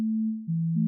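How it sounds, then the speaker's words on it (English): A pure, smooth synth tone holding one low note, then stepping down to another, with a slight shift near the end; clean and alone. "I kind of went into this little sine wave and 3x oscillator."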